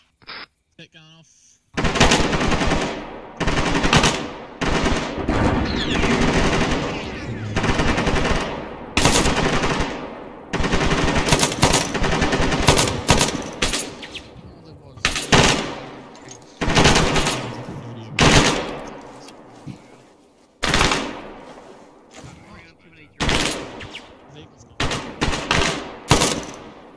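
Machine gun fire in the military shooter Arma 3, loud repeated bursts of rapid automatic shots with short gaps between them, running through most of the stretch alongside occasional radio-style talk.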